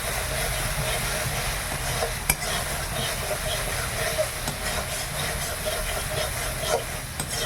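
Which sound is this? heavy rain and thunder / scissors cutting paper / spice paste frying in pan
spice paste frying in pan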